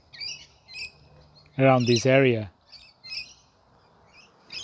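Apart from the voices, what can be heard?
Australian king parrots calling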